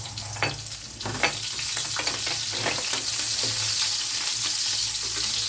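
Onions hit a hot pan and sizzle steadily, with scattered crackles and a few stirring scrapes over a constant hiss, close and fairly loud.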